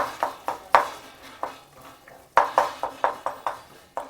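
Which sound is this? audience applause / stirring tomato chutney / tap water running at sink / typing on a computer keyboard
stirring tomato chutney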